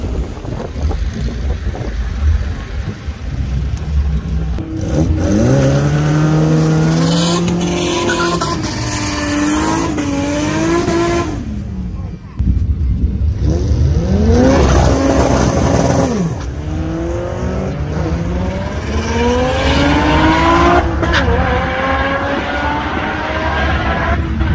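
A 1967 Datsun race car revs hard during a burnout, engine notes climbing and falling in loud repeated surges with a brief drop near the middle, over gusty wind on the microphone.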